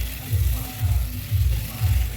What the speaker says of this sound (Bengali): এইভাবে মশলাগুলোকে খুব সুন্দর করে কষিয়ে নেব